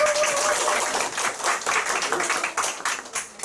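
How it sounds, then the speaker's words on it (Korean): A small group at a business team meeting claps for the next presenter, a brief burst of applause that thins into scattered individual claps toward the end. "박수 한번 해주세요."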